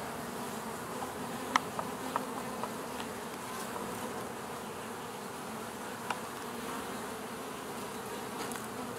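A dense, continuous hum of many honey bees buzzing close by in a hive, steady throughout with a few faint clicks.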